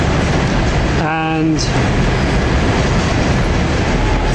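A passenger train on the East Coast Main Line roars past close by in a loud, steady rush, and a voice briefly speaks over it.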